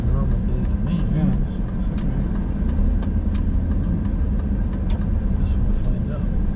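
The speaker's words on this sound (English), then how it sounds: "There's a lot of cars here." Steady road traffic on a street in Minot, North Dakota, cars passing continuously at moderate distance with engine hum and tire noise, while people talk nearby throughout.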